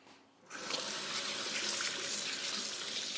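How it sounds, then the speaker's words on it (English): Hands being washed under a kitchen tap: after a quiet start, water gushes on and runs in a steady, close hiss, splashing continuously with no voices. "I'm just gonna wash my hands"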